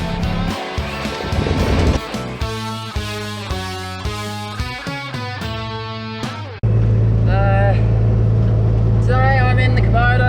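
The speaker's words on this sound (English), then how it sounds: "Today I'm in the Kubota." A Kubota vehicle's engine runs while driving, giving a steady low drone that becomes loud and constant in the second half, with someone talking over it throughout.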